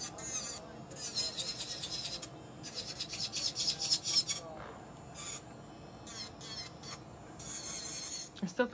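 High-pitched whirring of an electric nail drill filing in repeated bursts, close and fairly loud, with short pauses between passes.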